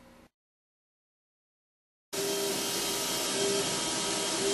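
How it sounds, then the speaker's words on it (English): A Gravograph IS900 engraving machine cuts through sign material for raised-letter ADA signage, starting after a brief pause as a loud, steady, broadband whirring and grinding hum that holds constant to the end. "I'm going to engrave through it, and that'll give me my raised letters."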